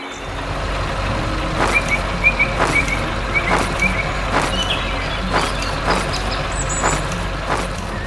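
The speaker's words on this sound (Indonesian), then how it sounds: "truk merah sedang bekerja keras" An animated red truck working on a farm gives a steady rhythm of sharp, regularly spaced beeps over a low engine rumble, loud and close.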